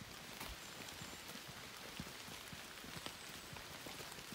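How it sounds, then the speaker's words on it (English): Hard rain falls on a forest trail near Fragrance Lake outside Bellingham, Washington, with a dense, steady hiss of drops and scattered sharper patters on leaves and ground close by. "It would probably be better if it wasn't raining hard"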